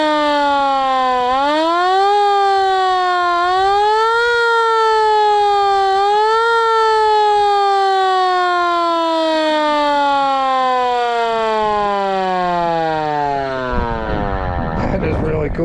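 Handheld siren with a fan blade spinning inside, winding up loud and close in a long rising wail that wavers up and down several times before climbing higher and breaking into a rough burst at the end.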